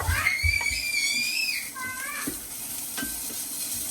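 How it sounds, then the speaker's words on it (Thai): Shredded carrots sizzling and being stirred in a hot pan, with a few scraping strokes and a whistling tone early on, fairly close. "แล้วก็ผัดแครอทลงไป"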